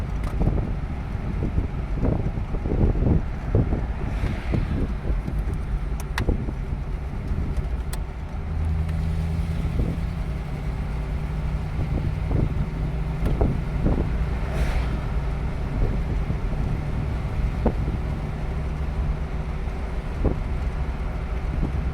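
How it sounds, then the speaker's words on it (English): Original, unrestored 1971 Dodge Challenger convertible rumbling low while driving with the top down, its steady engine drone mixed with wind buffeting the microphone and occasional road thumps. "The sound is picking up the rumble of the car"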